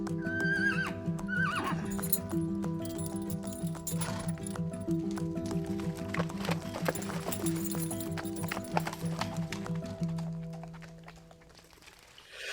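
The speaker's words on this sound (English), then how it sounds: "the first thing Kapoor Singh tells him to do is go feed the horses" Horses whinny and neigh at the start while hooves clip-clop in a steady rhythm throughout, fairly close and moderately loud, with the hoofbeats fading out near the end.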